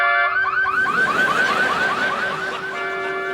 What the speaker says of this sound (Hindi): इसका अलार्म ना कुछ दिनों से गड़बड़ चल रहा है।